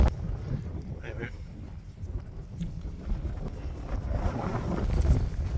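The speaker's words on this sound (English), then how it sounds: "And it's really windy right now" Gusts of wind buffet the microphone on a farm in a steady low roar, fluctuating in strength throughout.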